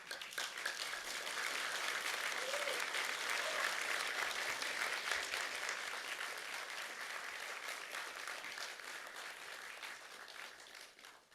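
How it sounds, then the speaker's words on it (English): A graduation-ceremony crowd of engineering and IT graduates claps steadily for their family and friends, a dense, sustained wash of applause that holds for over ten seconds before tapering slightly at the end. "give them a rousing round of applause because they too have earned it"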